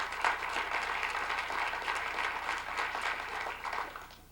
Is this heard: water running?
no